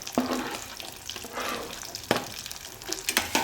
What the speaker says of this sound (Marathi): कंद फ्राय करत असतानाच आपण यात मटार पण टाकून घ्यायचे आहे.